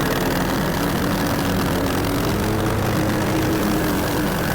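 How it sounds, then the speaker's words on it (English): A lawn mower engine drones steadily and loudly while cutting through thick, overgrown grass during a yard cleanup, a constant low roar with no break and no speech. "A little too thick for the mower, but"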